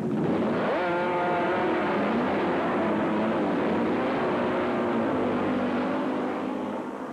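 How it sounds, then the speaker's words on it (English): Sidecar motorcycle racing: loud, high-revving engines roar past continuously, with rising and falling pitch as the machines accelerate and shift. "This is sidecar racing"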